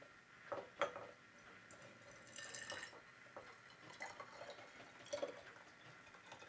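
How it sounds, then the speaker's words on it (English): Homemade elderflower cordial pours from a saucepan into hot sterilised glass bottles, a faint trickling and splashing of liquid with a few small clinks, quiet and close, without speech. "It's just a matter now of pouring our cordial from our saucepan into our bottles."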